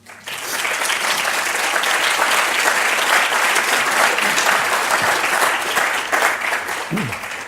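A conference audience at a summit breaks into loud, sustained applause welcoming speaker Steve Lewis, a dense even roar of clapping that holds for several seconds and tapers near the end.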